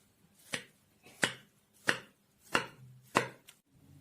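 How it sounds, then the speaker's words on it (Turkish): A knife slices down through a soft rested cake onto a board, five or six even chops spaced about half a second apart, close and clear. "kekimi şimdi dilimleyip servis tabağıma alıyorum."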